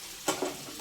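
Chopped ridge gourd sizzles in hot oil in a pan with fried chana dal and masala as it is stirred, a soft frying hiss with two quick scraping stir strokes.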